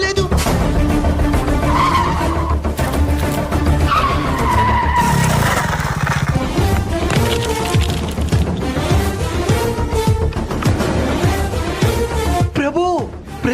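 A motorcycle with failed brakes skids in a long, loud screech that runs nearly the whole stretch, layered over a dense, steady wash of other sound.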